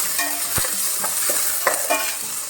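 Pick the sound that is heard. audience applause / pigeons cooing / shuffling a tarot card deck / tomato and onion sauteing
tomato and onion sauteing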